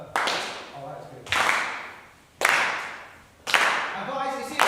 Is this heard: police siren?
no